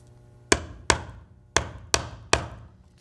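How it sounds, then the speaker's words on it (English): A picture frame piece is tapped into place with five sharp, close knocks, evenly spaced at roughly half-second intervals over a quiet background. "I'm going to tap it a couple times to get it as deep as I need it."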